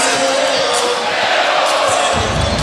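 Basketball arena crowd cheering during an NBA game, a loud, sustained roar of many voices filling the whole stretch with steady, dense noise.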